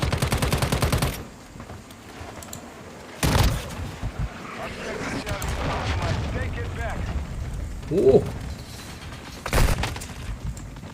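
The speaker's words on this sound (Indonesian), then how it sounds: "Walah, pakai shotgun ternyata ya." Shotgun fire in the Call of Duty Warzone video game comes as a few loud, sharp blasts spaced several seconds apart, with a quieter background of game noise and a voice talking between the shots.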